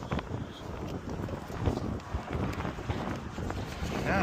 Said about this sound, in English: Damn, I wonder why it's so windy.